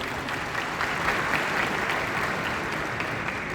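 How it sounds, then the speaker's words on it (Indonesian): Audience applause at an Indonesian foreign policy conference, a dense, even wash of clapping throughout the few seconds. "Tepuk tangan untuk kita."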